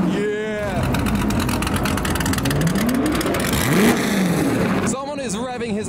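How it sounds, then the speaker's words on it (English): A car engine revs hard at a SEMA 2023 auto show, sustained rising and falling whines sweeping up and down, fairly loud though not close, while someone talks over it. "Someone is revving his absolute nuts off in the distance."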